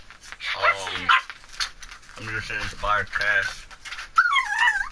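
A dog gives short yelps and a rising whine, most clearly near the end, while someone talks steadily over it.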